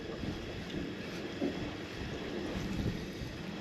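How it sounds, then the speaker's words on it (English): Steady wind gusting over open water on a power plant lake during bass fishing, a continuous broadband rush with mic buffeting and faint lapping, no talk. "with this wind blowing in"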